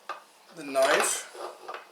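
A metal knife and plate from a 30-year-old meat grinder clink and scrape as they are handled up close, with a ringing metallic scrape in the middle and light taps either side.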